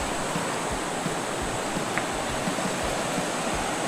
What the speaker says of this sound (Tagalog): Yung lakas ng agos ng tubig.